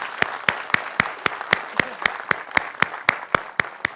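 Rhythmic, evenly spaced clapping at a business felicitation event in India, about four claps per second, sharp and close, with no crowd voices.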